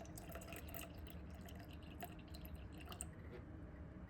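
Water poured into a jar sitting on a kitchen scale while feeding a sourdough starter: a steady, soft trickle with faint drips, continuous and close.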